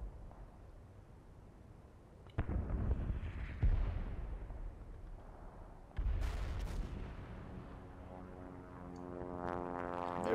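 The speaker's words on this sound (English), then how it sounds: "There is some shooting going on." Booming gunfire and artillery in the Combat Mission: Battle for Normandy war game, heavy blasts at intervals over a low rumbling battlefield, with a rising mechanical whine near the end.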